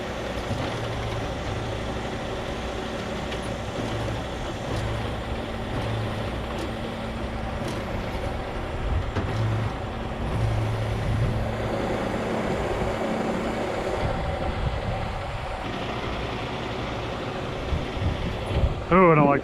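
A Freightliner truck rolls slowly over a culvert, its engine a continuous low rumble that thickens toward the end with a few knocks and bumps, while people talk over it.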